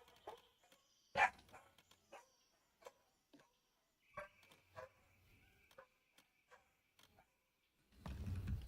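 Dogs bark repeatedly in a Planet Zoo Himalayan zoo build, a loud close yelp followed by scattered sharper barks and whines at irregular intervals, with a rumbling burst of noise at the end.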